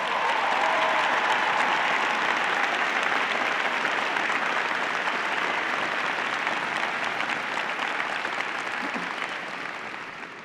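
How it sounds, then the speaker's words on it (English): A large audience at a mayoral inauguration in Chicago applauds the new city aldermen, dense, sustained clapping that fills the whole stretch and slowly fades near the end. "Let's give them a round of applause."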